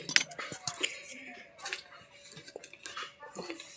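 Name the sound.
pot of cooked meat being taken off the stove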